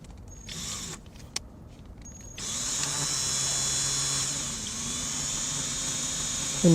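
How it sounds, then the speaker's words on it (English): A power drill turns a bit slowly into metal in a home workshop, its steady whine starting after a couple of seconds of quiet and holding on at moderate level to the end. "You want this drill bit to spin real slow when you're drilling metal."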